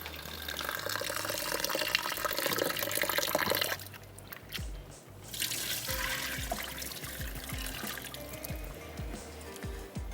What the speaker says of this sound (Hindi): थोड़ा सा मैं इनको वॉश कर लेती हूँ।